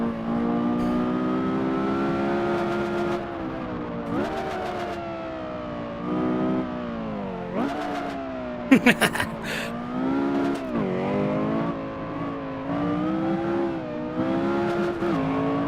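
A Porsche Carrera GT engine in a racing video game wails through sustained high revs, rising and dipping with gear changes and a brief sharp crackle partway through, loud and continuous throughout.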